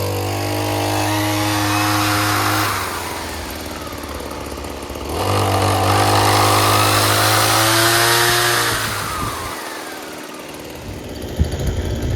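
A weed whacker engine with an attachment fitted runs loud and close, its buzzing whine rising and falling through revs, easing off near the end with a brief quieter dip.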